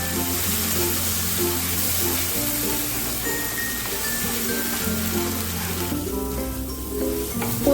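Rui fish in poppy seed paste sizzles and is stirred in a pan, a low, continuous frying hiss beneath steady background music.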